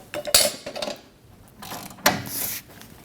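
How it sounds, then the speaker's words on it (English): A ratchet snugs down the nut on a rear shock absorber of a 2012-2022 Volkswagen Passat, giving two short bursts of close, dry mechanical clicking separated by a quieter pause. "Snug down the nut."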